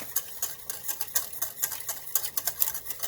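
A spoon stirring creamy tomato sauce with dried basil in a pan, a quick run of light clinks and soft scrapes in an uneven rhythm, close and fairly quiet with no talking.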